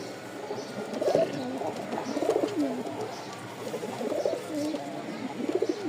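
Giribaz pigeons, a white hen paired with a Bombai, coo in soft repeated rolling phrases at close range, with a steady background murmur.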